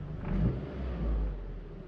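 A 1997 Toyota Tercel CE engine idles with a slight vibration: a steady, close, low rumble that swells a little and never revs up. No one speaks over it.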